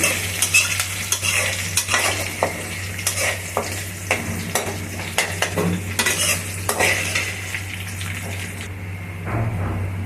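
Chopped onions frying in a pan, going red, for a catla kalia fish curry, with a steady sizzle under repeated scraping stirs of a metal spoon and some clinks of utensils, close and fairly loud, with no voices.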